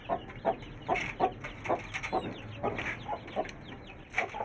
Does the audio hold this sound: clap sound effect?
no